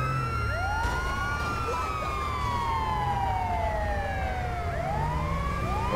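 An ambulance siren in GTA 5 sweeps in repeated long rising and falling wails over a steady engine and traffic rumble, fairly close and continuous, with no speech.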